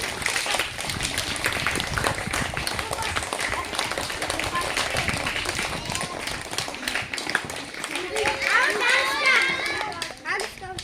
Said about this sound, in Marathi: चला टाळ्या त्यांच्यासाठी